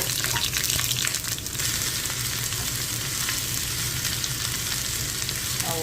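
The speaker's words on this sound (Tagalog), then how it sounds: "Let's put our garlic and ginger together." Garlic and ginger sizzling in hot oil in a skillet, a steady close crackle and hiss with occasional stirring scrapes, no voices.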